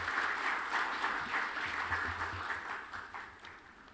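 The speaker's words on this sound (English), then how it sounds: "Another round of applause for him." The audience at an economic outlook forum in Uganda applauds the Governor of the Bank of Uganda, a full round of hall clapping that swells and then slowly tapers over four seconds.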